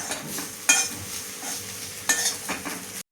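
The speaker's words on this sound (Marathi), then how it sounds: "साखर टाकल्यानंतर चांगली परतून घ्यायची" Grated bitter gourd with a pinch of sugar being sautéed in a pan: a steady close sizzle of frying, broken by two louder scraping stirs, with no talk.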